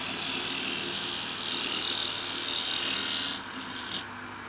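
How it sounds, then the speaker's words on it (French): A drill bores a hole in a tobacco pipe bowl in a pipe-making workshop, producing a continuous close whirring grind that holds steady and then eases off near the end. "Je perce un trou ici pour mettre le tuyau"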